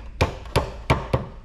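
Four crisp, close taps sound as screws are hammered into a plastic children's toy, each strike short and spaced at a steady rhythm.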